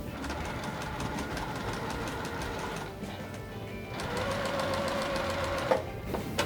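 A sewing machine stitching lines on a puff quilt runs in a steady, rapid mechanical chatter, close and loud, with brief pauses and a slight change in pitch partway through.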